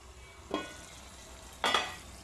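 Chicken curry with tomatoes being stirred in a pan, two brief scraping stirs about a second apart over a quiet background, close and moderately loud.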